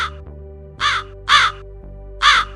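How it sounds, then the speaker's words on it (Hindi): Crows perched in a tree caw loudly and close by, three harsh calls spaced about half a second apart over a low steady drone. "तभी पेड़ पर बैठे कुछ कौवे महाकाल को देखकर चिल्लाने लगते हैं।"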